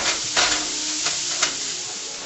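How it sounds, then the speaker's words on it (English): Ground beef browning in a non-stick pan crackles with a steady sizzle while a spoon scrapes and pushes it around in a few distinct strokes, close and clear. "for 3 or 4 minutes I've been stirring this ground beef and making sure it was broken up nice and fine"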